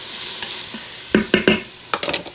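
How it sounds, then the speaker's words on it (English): Spoon scraping and knocking through broccoli cheese soup in an Instant Pot, a few distinct bursts of stirring after a quiet start, close and moderately loud. "Give it a stir."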